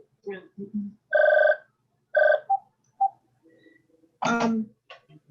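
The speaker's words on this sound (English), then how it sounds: "hold on, just my phone." A phone rings with repeated electronic tones in short bursts, close and fairly loud, between brief bits of speech from a man.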